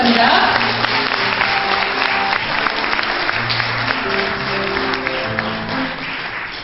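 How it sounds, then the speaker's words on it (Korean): An audience at a company year-end party applauds loudly and steadily from start to finish, a dense wash of many hands clapping at once with slight fading toward the end. "여러분 큰 박수 주시기 바랍니다."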